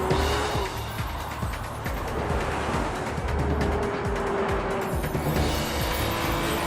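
A 2012 Porsche Cayman R sports car drives with a steady, loud engine drone and road roar that stay constant throughout, with no talking.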